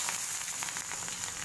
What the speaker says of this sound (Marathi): अशी मिरची त्यावर सोडायची आणि याला छान परतून घ्यायची.